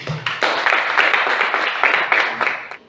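Students in a classroom clap together in a quick, rhythmic burst of close, sharp hand claps that lasts a few seconds.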